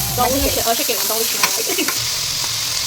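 Sliced onions frying in hot oil in a pan for noodles, a loud, close, continuous sizzle with scraping stirring sounds through the first half.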